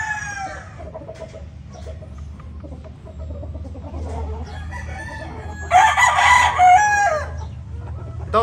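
Young gamefowl, pullets and a stag, cluck quietly before one bird lets out a loud, close crow near the end, with other faint clucks around it.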